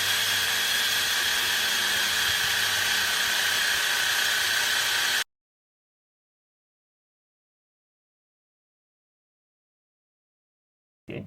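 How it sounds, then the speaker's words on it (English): A power drill spins an engine oil pump to prime it, a loud steady whirring drone that runs for about five seconds and then cuts off abruptly into silence. "So let's lock the drill on."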